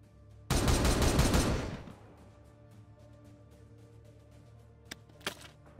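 Rapid automatic gunfire from the video game Warhammer 40,000: Regicide, a loud dense burst of about a second and a half that fades into a quiet tail, followed by a few sharp isolated shots near the end.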